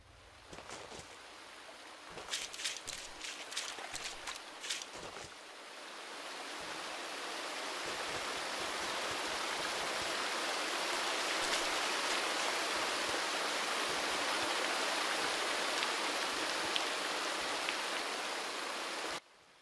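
Waterfall and stream in the Spirit of the North video game, Enhanced Edition: a broad, steady rush of falling water that swells louder and holds, with a few faint clicks early on and no voices.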